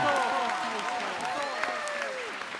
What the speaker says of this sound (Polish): Dla Jana Apostoła oklaski jeszcze.